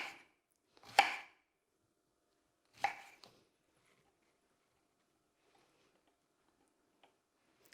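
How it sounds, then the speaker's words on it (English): Two sharp knife chops through strawberries on a cutting board, close and crisp, separated by about two seconds of near silence, followed by a few faint ticks. "maybe cut up some strawberries"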